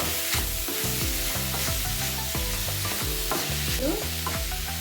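Cauliflower filling for gobi paratha being stirred and mixed in a pan, with a steady run of close scraping strokes over a soft sizzle, carrying on for several seconds without any talk.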